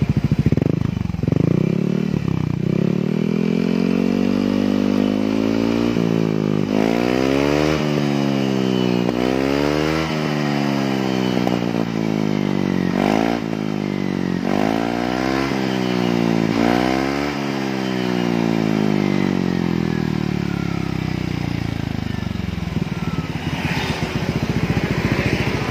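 A motorcycle with an AHM exhaust fitted with a new filter and glasswool muffler packing idles, then revs repeatedly in a series of sharp rises and drops, loud and close, before settling back to idle.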